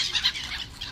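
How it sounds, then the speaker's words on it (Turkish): Seagulls being thrown crackers outside Baltalimanı bone hospital in Istanbul beat their wings in a brief, close flurry of flapping. "martılara kraker attık"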